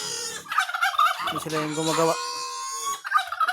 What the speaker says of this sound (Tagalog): So update tayo dito sa ating mga pabo.